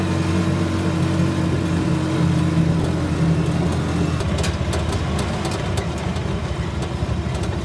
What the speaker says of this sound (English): the start of our tuk-tuk taxi ride